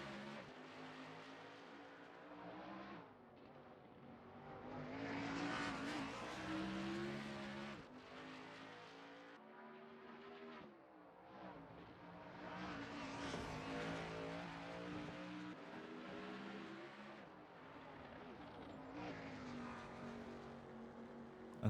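Race car engine on a flying lap at Road America in a racing video game, a loud sustained roar rising and falling through gear changes and surges, continuous throughout with no talk.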